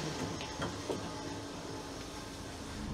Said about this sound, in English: there's another train right here now